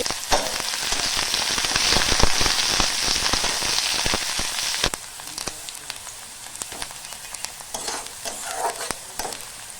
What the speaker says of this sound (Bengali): তেলটা খুব ভালো মতো গরম হয়ে গেছে তেলে একটা শুকনো লঙ্কা দিয়ে দিলাম আর একটা ছোট পেঁয়াজ কুচিয়ে নিয়েছি